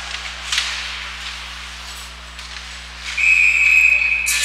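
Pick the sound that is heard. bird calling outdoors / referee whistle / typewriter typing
referee whistle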